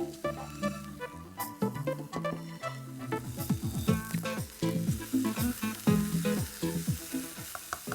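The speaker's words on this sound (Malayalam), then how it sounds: "ഉള്ളി ഒന്ന് വാടിക്കഴിഞ്ഞാൽ ഇതിനകത്തോട്ട് നമ്മൾ ഇച്ചിരി പകുതി ടൊമാറ്റോ ഇട്ടു." Onion and tomato fry in a pan with a steady, close sizzle and a crackling patter, accompanied by stirring scrapes and rhythmic clinks against the pan throughout.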